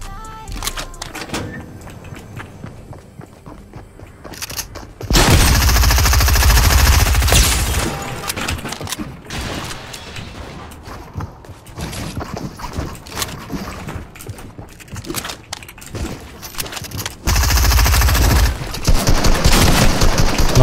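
Video game weapon fire aimed at a vehicle's tires, heard as loud bursts of rapid shots separated by quieter stretches of clattering game sound, a second burst arriving near the end.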